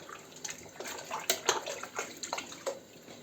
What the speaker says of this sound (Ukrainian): Сюди додаємо воду.